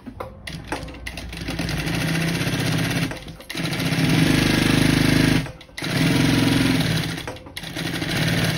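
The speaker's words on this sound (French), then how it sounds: "venir coudre avec une marge de 1 cm et un point court" A sewing machine stitches faux-leather pieces in loud, close, steady whirring runs, stopping briefly between bursts and starting again.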